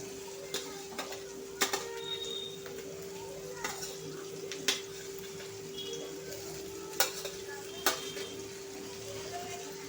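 Okra and turmeric stirred and fried in a pan for a spiced Maharashtrian bhindi dish: a steady sizzle runs throughout, punctuated by sharp spoon-against-pan clicks and scrapes at irregular intervals, over a faint constant hum.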